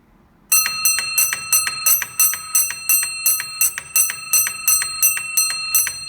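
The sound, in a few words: railway signal box block instrument ringing 16 bells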